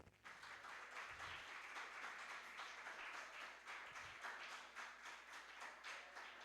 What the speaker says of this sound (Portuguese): Quem crê, aplauda Jesus